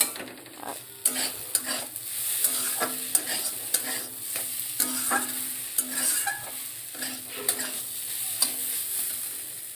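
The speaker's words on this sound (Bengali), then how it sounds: "এই জন্য মুগ ডাল ভেজে নিচ্ছি।" Mung dal being dry-fried and stirred in a pan, a soft steady sizzle with frequent sharp scrapes and clicks of the spatula against the pan, heard close without talk.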